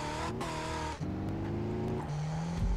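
Car engine in a modded GTA San Andreas driving near San Fierro, a steady droning hum with clear pitch shifts as gears change, loud and alone with no talk.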